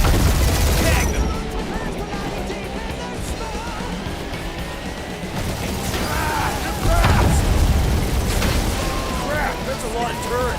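Turrets fire and explosions go off during a Guardians of the Galaxy game battle, a dense, continuous roar of shots and blasts with game characters talking over the din throughout.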